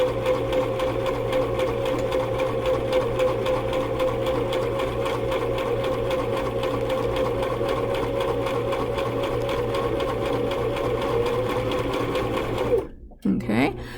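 Sewing machine stitching fabric along the edge of the presser foot, a fast steady mechanical chatter running continuously before stopping abruptly near the end, with a voice talking over it.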